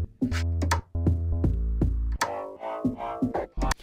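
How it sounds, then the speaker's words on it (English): Music track built entirely from cello samples: punchy plucked bass notes and percussive hits in a choppy, syncopated rhythm, with a scratchy, noisy string texture in the second half, played at moderate volume. "All the sounds are sampled from a cello."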